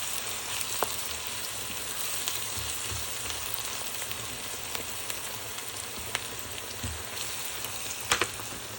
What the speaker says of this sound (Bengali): আমি তেল ভাজা হচ্ছে।